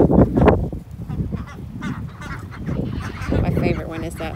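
Ducks and chickens mixed together make loud nearby honking quacks and clucks in bursts. A voice speaks briefly among the calls.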